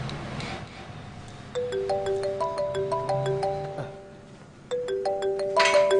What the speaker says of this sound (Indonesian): bentar ya, aku ada telepon